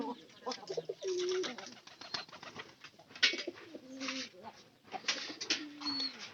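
Domestic pigeons cooing near and clearly at a home feeding spot, with several soft repeated coos and rustling, and faint voices mixed in.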